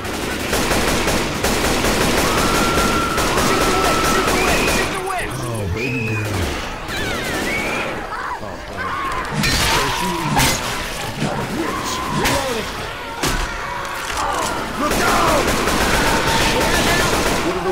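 Rifle gunfire in Left 4 Dead 2, loud and close: sustained rapid bursts of shots with brief pauses, mixed with game effects and excited voices.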